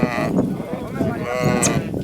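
Sheep of a traditional household breed on a sheep farm, heard close as a low, drawn-out bleat that carries through the whole short moment.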